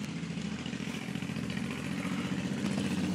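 A 2004 Honda CBR1000RR with nitrous and a full exhaust system down to the headers idles close by, a steady, throbbing low rumble that holds even and loud throughout with no talking.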